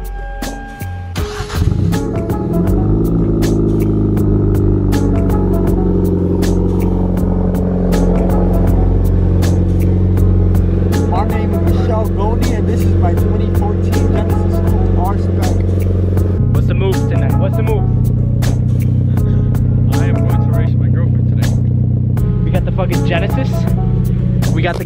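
A car engine cold-starts with a short crank and catch, then settles into a loud, continuous idle that holds steadily throughout, with faint voices now and then.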